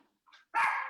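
A puppy gives one short, loud bark, with a faint yip just before it, near and clear over a quiet background.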